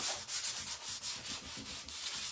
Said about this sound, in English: Again, we're gonna sand.